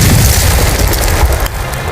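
A loud, deep explosion from the video game Danganronpa rumbles throughout, a sustained booming blast with crackling debris that eases slightly toward the end.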